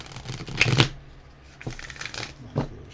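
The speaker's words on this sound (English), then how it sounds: "Nice little shuffle." A deck of playing cards is shuffled by hand, with a quick riffling burst up close, then a few lighter taps and flicks as the cards are squared.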